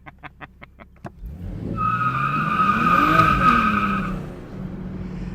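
A 2023 BMW M240i with traction control switched off breaks its tires loose in a loud, sustained skid and squeal, the engine roaring up and then easing off, after a few short clicks at the start.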